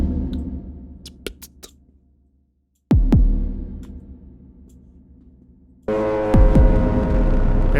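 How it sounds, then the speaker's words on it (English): Sharp synthetic clicks and hits ring out into a long, dark reverb tail that fades away, then a denser burst of tones swells and sustains. "sometimes you just need a reverb, like a dark hall."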